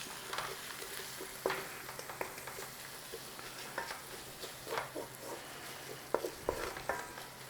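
Kashmiri chili powder, coriander, cumin, garam masala and turmeric sizzle gently in oil in a pan over very low flame, a steady soft frying hiss dotted with small pops and stirring scrapes.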